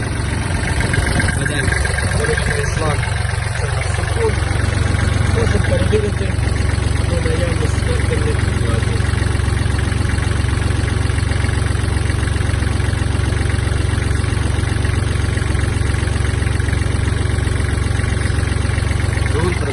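A Kubota GL-32 Japanese mini tractor's small diesel engine idles steadily and continuously with a low knocking rumble, close by and loud, with no change in pace throughout.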